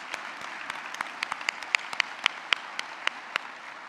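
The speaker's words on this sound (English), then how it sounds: "let's give them a big round of applause" Sparse applause from a breakfast audience at an education foundation event, scattered individual claps ringing out sharply and unevenly over a soft background, thinning toward the end.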